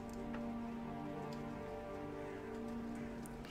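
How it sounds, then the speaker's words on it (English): Steady rain sound effect with a soft, even hiss and a low continuous hum beneath it, faint and unbroken throughout with no voices. "Because you know we got to hear the crows and rain and all that."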